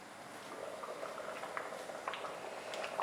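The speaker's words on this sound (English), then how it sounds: "allow the rajma to boil" Rajma simmers in a covered pot on a low flame, giving a soft, steady bubbling with small irregular pops and drips, quiet and close, with no voices.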